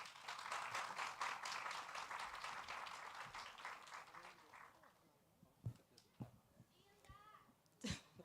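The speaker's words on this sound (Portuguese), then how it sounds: "Uma salva de palmas para Fabíola Melo." Audience applause for a speaker at a tribute event honoring Ziraldo: dense, steady clapping for about four seconds, then thinning out into scattered noises and a few faint voices.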